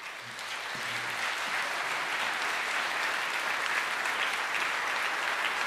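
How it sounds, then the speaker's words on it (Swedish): Warm, sustained applause from the audience at a Mission Covenant Church conference, a dense, even wash of many hands clapping that swells early and holds steady throughout. "tar nu emot hela konferensens varma applåd"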